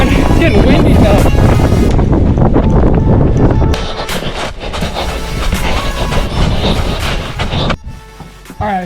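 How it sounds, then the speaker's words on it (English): Strong wind buffets the microphone outdoors during a marathon run, heavy roaring gusts that ease partway through, with a voice speaking over it. "It's getting windy though."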